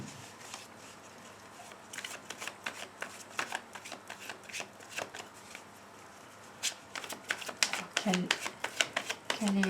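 Tarot cards being shuffled in quick, crisp riffling bursts, close and fairly quiet, with someone speaking French softly alongside.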